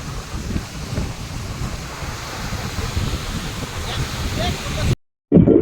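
Sea waves breaking on the shore at Dwarka, Gujarat, heard as a continuous rushing surf with heavy wind buffeting the microphone, cutting off briefly near the end before resuming loudly.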